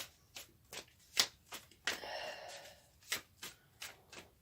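A deck of cards being shuffled for a card reading gives close, crisp riffles and flicks in irregular bursts, with one longer riffle in the middle, quiet and without speech.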